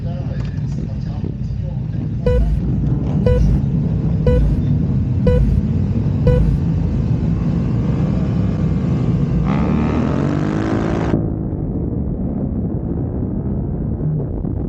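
Yamaha R7 race motorcycles roar off the line at the start of an R7 Cup Grand Prix, engines loud and revving with sharp repeated gear-shift bursts, then a rising whine as a bike passes close.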